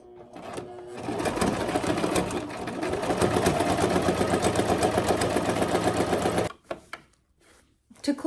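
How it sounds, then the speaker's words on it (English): A sewing machine stitching the inner liner of a pine needle pillow runs in one loud, steady whirring burst of about five seconds, then stops, leaving a few soft handling clicks. "I'm just gonna sew it shut."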